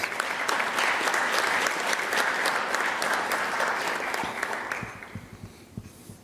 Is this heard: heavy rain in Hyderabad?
no